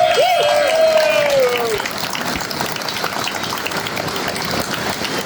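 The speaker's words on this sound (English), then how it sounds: "let's give those guys the biggest round of applause for them" Crowd applause at a Ford Nationals car show among vintage Mustangs, broad steady clapping that sustains throughout, loudest at the start, with a whistle-like tone early and some voices mixed in.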